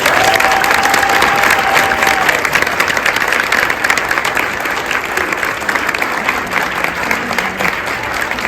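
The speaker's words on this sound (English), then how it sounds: "Let's please give these incredible individuals a big round of applause." An audience at a school district board meeting applauds in a dense, continuous wash of clapping that stays loud and even for several seconds, with no speech over it.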